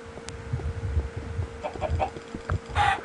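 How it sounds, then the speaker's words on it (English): Chickens clucking in the Minecraft video game, a few short bursts repeating at a steady moderate level over a low ambient game background, with no talk. "Another chicken spawned, awesome."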